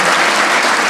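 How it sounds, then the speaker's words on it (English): Loud, dense applause fills the room without a break as an audience claps for graduates of a city fire department's firefighter academy class. "Please give these guys a round of applause"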